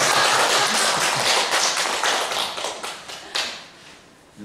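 Audience in a Buddhist dharma talk hall clapping their hands, a loud burst of rapid overlapping claps that thins out and fades toward the end.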